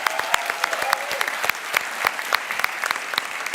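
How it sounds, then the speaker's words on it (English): An audience at the 2018 Imagine Cup World Championship applauds three finalists with a steady wash of clapping and sharper individual claps mixed in, and faint voices underneath. "Let's do one more round of applause for all 3 finalists."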